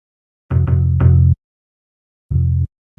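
Chopped bass notes from a sampled bass pattern play in a hip-hop beat, arriving as short, loud, deep stabs: a quick run of three near the start, then separate hits after a gap, with no voices.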